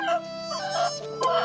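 Egyptian Fayoumi chickens on a farm crow and cluck close by, with a rooster's cock-a-doodle-doo rising over the flock chatter in short bursts, and no voices present.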